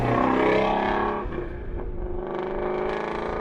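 Sports car engine revs hard with its exhaust set to loud mode, a brief roaring blip that drops to a rumbling, burbling idle, close and loud with no voices.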